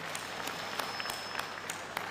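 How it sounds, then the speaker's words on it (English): A crowd in a large arena applauds clergy at a national gathering, a steady, distant wash of clapping with sharper claps poking out at regular intervals, no voices heard over it. "We need to give them a big clap."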